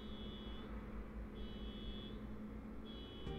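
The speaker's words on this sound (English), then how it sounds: "someone's car alarm's going off" Car alarm going off outside, faint repeating high electronic tone in long bursts with pauses, distant and steady under a low background hum.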